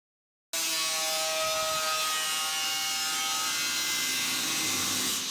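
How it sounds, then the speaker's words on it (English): An angle grinder cuts through the steel floor tunnel of a turbocharged four-wheel-drive Austin Mini, a steady, loud, harsh abrasive screech that starts abruptly after a brief silence and runs on without pause. "take the grinder to the tunnel and cut it out"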